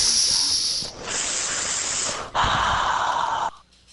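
A person takes deep, hissing breaths in close up during a WWE 2K17 wrestling game stream, three long airy inhales back to back before fading out.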